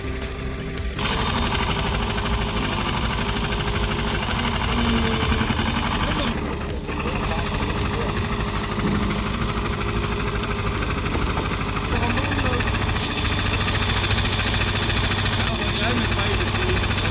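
An 80-ton extreme-pressure wood splitter for massive stumps runs with a loud, steady engine drone and heavy vibration that barely changes for the whole stretch.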